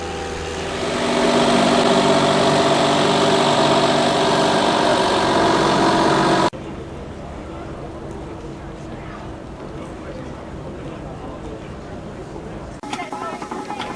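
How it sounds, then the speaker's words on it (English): A New Holland 9684 tractor engine, built by Versatile, drones loudly and steadily, then drops abruptly to a quieter, rougher rumble that continues to the end. "another tractor we've caught on camera before, the New Holland 9684, built by Versatile in Canada"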